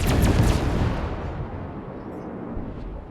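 Battleship broadside in a naval video game fires as a single deep, heavy boom, followed by a long rumbling decay that fades over a few seconds.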